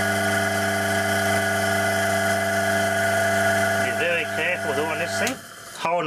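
A single-phase electric motor held in the hand hums steadily and loudly with a constant tone, then its pitch wavers toward the end as it is handled or set down.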